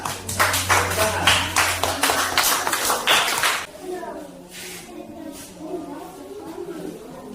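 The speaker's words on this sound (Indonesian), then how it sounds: "Tepuk tangan." Children in a classroom clap together in a quick rhythmic burst for about four seconds, the claps loud and close, then stop abruptly, leaving a low murmur of voices and room noise.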